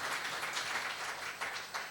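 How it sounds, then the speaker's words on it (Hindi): An audience at a public tea-and-discussion forum applauds, a dense, even patter of many hands clapping together that continues without a break for a couple of seconds, with no talking heard. "यदि आपको लेकिन लगता है मैंने इन्होंने प्रयास किया तो ताली इनके लिए बजा सकते हैं आप"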